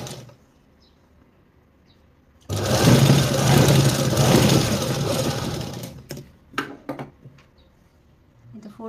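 A sewing machine runs steadily for about four seconds, stitching a folded strip on a princess blouse, then a few short clicks and bursts follow as it stops and the fabric is adjusted.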